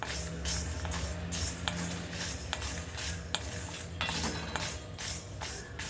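A spoon scrapes and turns whole spices dry-roasting together in a pan on the stove, giving repeated rhythmic scraping strokes over a soft, light crackle, fairly quiet and close, with no speech.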